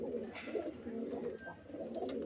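Soft low cooing of pigeons kept for sale, near and steady, with overlapping coos from several birds and faint background noise.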